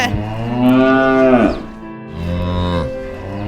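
Cattle pulling a bullock cart moo in two long, loud, drawn-out calls, the first rising and falling before a pause, then a second lower bellow, close by with no talking.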